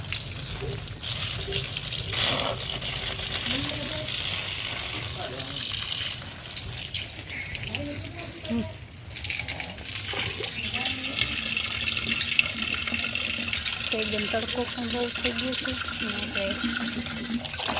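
A steady stream of water gushes out to water trees at a village farm. The flow runs continuously and fairly loudly throughout, with a person talking over it.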